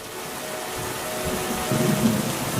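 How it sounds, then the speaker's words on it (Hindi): Heavy downpour with thunder, steady hissing rain throughout while a low rumble of thunder builds and grows louder toward the end. "कुछ दिनों बाद बहुत तेज बारिश होने लगी"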